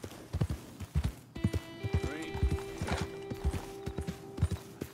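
Horse hooves in Red Dead Redemption 2 near a smokestack: steady, rhythmic clip-clop of hooves close by, with a horse's whinny partway through and someone talking over it.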